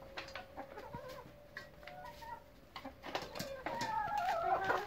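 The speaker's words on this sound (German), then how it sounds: "Verrückte Hühner." Chickens cluck and squawk in short, irregular bursts, close by and fairly quiet at first, then growing busier and louder toward the end, with no talk.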